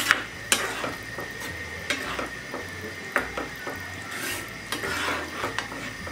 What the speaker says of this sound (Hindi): सारे ड्राई फ्रूट्स ऐड कर दूंगी और अच्छी तरह से मिक्स कर लूंगी